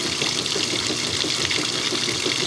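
Washing machine refilling, water gushing and rushing steadily into the drum in a continuous close hiss with no pauses.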